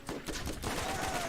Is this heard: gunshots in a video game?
yes